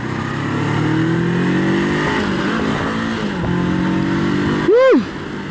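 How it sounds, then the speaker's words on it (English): Honda CB400X motorcycle engine while riding, heard amid strong wind rush: a droning mid-pitched hum rising and falling with throttle, then a sharp brief rev swell near the end. "Check out the sound, guys."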